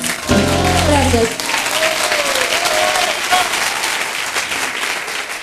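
A crowd applauds after a live performance, thick steady clapping that follows a brief musical note at the start and fades slightly near the end.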